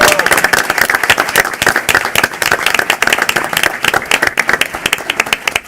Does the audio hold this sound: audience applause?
yes